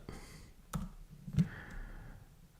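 A few sparse, separate clicks of a computer keyboard while typing, quiet and close, with soft background noise between the keystrokes and no talking.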